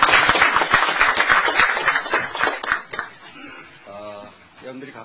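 Audience applause at a Korean press event, a dense burst of many clapping hands for about three seconds that then breaks off, with a voice talking near the end.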